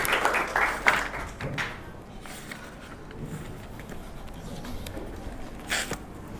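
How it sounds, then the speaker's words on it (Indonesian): A short burst of classroom applause from students rises briefly at the start, then thins into scattered taps and light room noise. "Tepuk tangan untuk kita semua."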